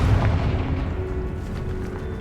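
A Confringo fire spell bursts in Hogwarts Legacy, a loud booming explosion at the start followed by a rumbling, fading tail, with no talking.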